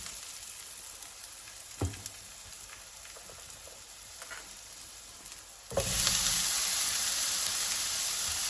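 Tomatoes are tipped into a pan of melted garlic, and after a quiet stretch with a light knock the sizzle suddenly bursts in loud and holds as a steady, hissing fry.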